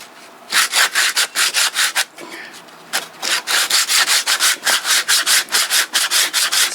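A wooden handle for a Silky saw blade is sanded with a sanding belt, producing loud, regular back-and-forth rasping strokes close up, with one short pause partway through.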